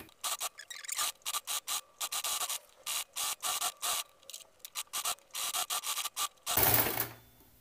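Domestic sewing machine stitching fabric for a diaper with appliqués, a close run of short mechanical bursts with brief pauses between them, ending in a louder, rougher burst.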